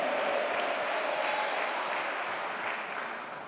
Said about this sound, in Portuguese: Aplauda ao Senhor, dê um brado de vitória mais forte